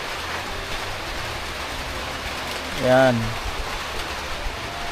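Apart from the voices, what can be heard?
heavy rain pouring down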